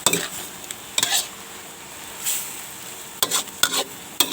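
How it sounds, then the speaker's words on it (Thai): Egg is stir-fried with pickled bamboo shoots in a pan, home-style. A spatula scrapes and clanks against the metal in short bursts over a soft, steady sizzle. "ผัดไข่ใส่น้ำไม้ดอง"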